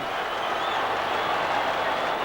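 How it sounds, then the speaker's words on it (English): Football supporters applauding Dundee United players at the 1994 Scottish Cup Final in a stadium: a steady, dense wash of clapping and crowd noise, loud and continuous throughout. "the applause from their supporters as they go across now."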